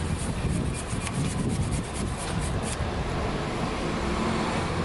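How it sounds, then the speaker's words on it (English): Wire brush scrubbing rust off a bicycle, a loud, continuous close-up rasping with rapid back-and-forth strokes and no talk. "Use a wire brush. You can get it at any hardware store. Just rub it. It'll start breaking up some of the rust."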